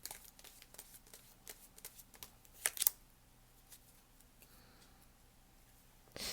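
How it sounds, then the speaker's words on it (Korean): Tarot cards being shuffled and drawn for a reading, heard as a quiet run of soft riffling flicks and card taps, with a brief louder burst of snapping cards midway, close and alone with no talk. "이번 주 조언 카드를 뽑아보도록 하겠습니다"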